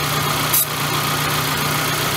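A Suzuki Sidekick engine idles steadily with a constant low hum and faint vibration, close and loud, while carburetor spray is sprayed around vacuum hoses to find leaks; one brief high hiss cuts in partway.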